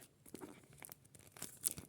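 A small paper surprise packet is torn open with short crinkly tearing and crunching bursts, close and quiet, with no voices.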